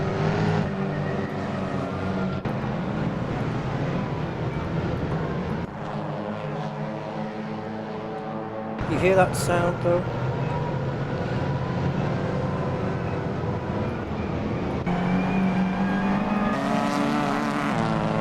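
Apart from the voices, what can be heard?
race car exhaust note in Assetto Corsa video game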